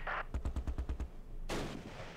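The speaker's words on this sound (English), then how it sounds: "Let's get the 3-inch mortar." A 3-inch mortar firing in a WWII Arnhem battle game: a rapid run of about eight sharp, evenly spaced thumping reports, then a broader rumbling blast that fades away, all fairly faint.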